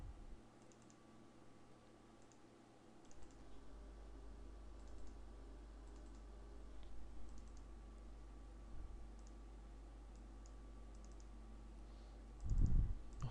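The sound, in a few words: clicking a computer mouse in Excel 2016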